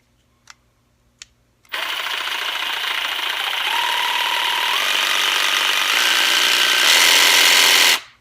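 A Pulitou 12V one-handed reciprocating saw clicks twice, then starts with a loud, close buzzing rattle whose pitch steps up as the trigger is squeezed harder before it cuts off abruptly.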